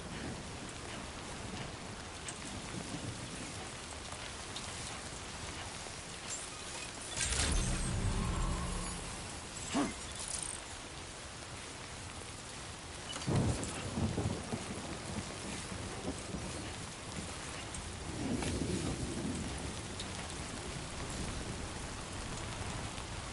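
Steady rain pours down in the video game Death Stranding 2, with several deep rumbles of thunder rolling in, a loud crack about a third of the way through and fainter booms later, with no voices.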